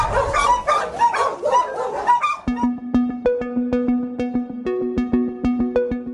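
Dogs caged in a crowded animal shelter bark and yip rapidly in a noisy, overlapping chorus, which gives way to a sharp, repeated tonal pattern.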